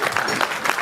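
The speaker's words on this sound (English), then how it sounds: "Please give a huge round of applause for the Theatre Workshop" Audience clapping for a theatre workshop group's performance at an outdoor ice skating rink opening event, a brief burst of crowd applause.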